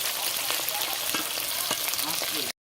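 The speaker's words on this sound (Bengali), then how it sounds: "টমেটো আছে এখানে চারটে কাঁচা লঙ্কা এগুলোকে আমি এপিট ওপিট করে ভেজে নেব উল্টিয়ে নেব" Tomatoes and green chilies frying in a hot pan give a steady, dense sizzle that runs without a break, with a few soft stirring clicks and pops close by and no voices.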